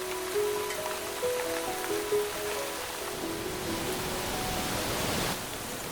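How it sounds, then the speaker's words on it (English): Heavy rain pours down in a steady broadband hiss across the Welsh countryside, dense and continuous throughout, with faint tonal birdsong-like notes early on beneath the downpour. "Downpours can be intense."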